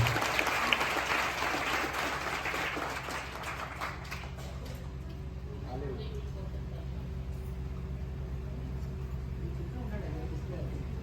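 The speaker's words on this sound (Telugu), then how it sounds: "చప్పట్లు కొట్టి దేవుని నామాన్ని కనపడుతుంది" A church congregation claps in praise, a dense round of applause that fades over the first few seconds into a quieter room hum with faint noises.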